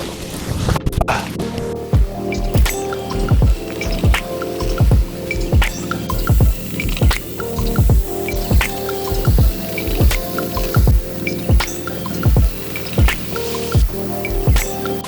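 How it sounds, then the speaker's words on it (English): Newton Canyon Falls in a Malibu canyon spills water into a creek, heard close as steady splashing and rushing, with repeated drips and plops over a continuous watery wash. "I'm surprised second week in May that Newton Canyon Falls is still flowing"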